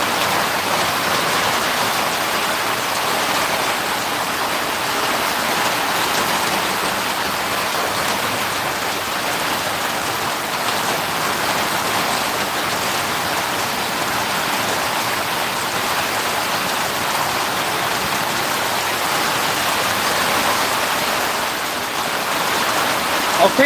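Steady, dense rain falls on a camping boat, a constant loud hiss of drops drumming on the surface for the whole stretch with no pauses.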